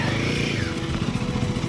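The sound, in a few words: motorcycle engine being pulled from lake shore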